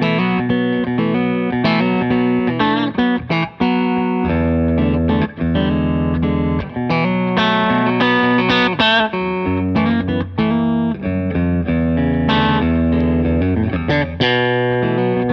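Crook Custom TG Doublecut electric guitar in butterscotch, with a Fralin hum-canceling P90 and a half-Tele bridge, played clean: a loud, continuous run of picked chords and single notes with ringing sustain, no talking.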